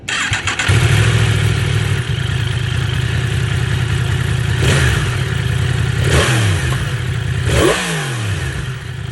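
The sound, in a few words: Yamaha MT10 SP motorcycle engine with stock exhaust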